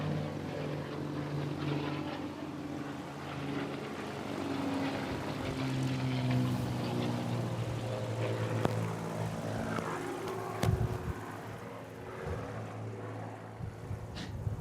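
Airshow display aircraft propeller engines starting up and idling right by the microphone, a steady throbbing drone with shifting tones and occasional clanks, no voices.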